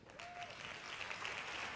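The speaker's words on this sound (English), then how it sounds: "Hand claps to that." Applause from a crowd gives a steady patter of many hand claps that carries on through the whole moment, at moderate loudness and without clear talk over it.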